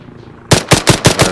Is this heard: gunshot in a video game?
yes